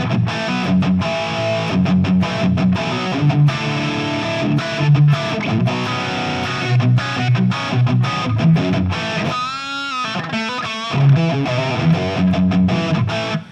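A high-gain electric guitar played through a Fractal amp preset with an ambient studio reverb, with loud distorted chugging riffs and rhythmic palm-muted stops, a brief swelling sustained passage near the end, then more heavy riffing.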